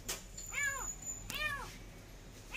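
A trapped cat with its leg stuck gives two faint, drawn-out meows about a second apart against a quiet background.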